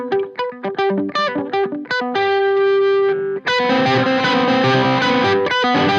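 An electric guitar played through a gritty overdrive pedal: a choppy run of distorted picked notes, a sustained ringing note, then a louder, fuller strummed chord ringing out with rich crunchy saturation.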